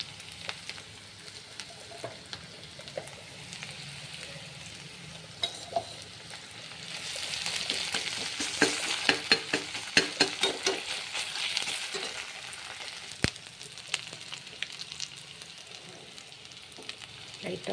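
Ginger garlic paste sizzles and fries in a hot pan of oil, a steady crackling hiss that swells louder midway with scraping stir strokes, no one talking.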